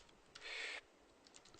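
Computer keyboard typing, with a few close quiet key taps and then a short burst of clicks. Brief scattered taps follow in an otherwise quiet room, and nobody speaks.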